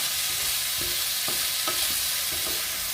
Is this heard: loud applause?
no